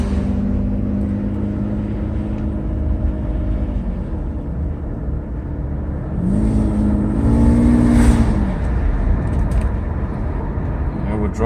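A Mercedes 600SL with a repaired Egas throttle control module drives along, its engine droning steadily, then rising in revs through a gear and settling again, with road noise underneath.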